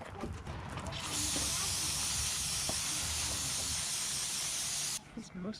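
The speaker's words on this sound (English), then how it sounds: "let's go ahead and spray this off with some carb cleaner" A steady, loud aerosol hiss of carb cleaner sprays continuously for about four seconds on a Yamaha Grizzly ATV, with a brief bit of background noise before and after.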